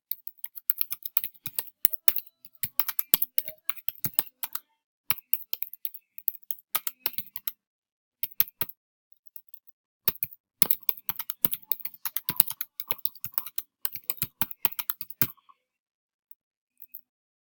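Keys clicking on a computer keyboard while data is typed into a form, a dense run of quick, close taps in bursts with short pauses, then quiet at the end.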